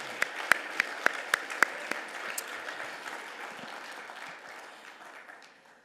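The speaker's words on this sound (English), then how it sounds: "Give him another round of applause." Audience at a Hall of Fame ceremony breaks into applause, a few sharp close claps standing out at first before the clapping thins and fades away.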